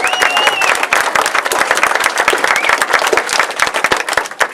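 Loud, dense applause from the crowd at a Walk to End Alzheimer's event, with many hands clapping steadily and close by throughout.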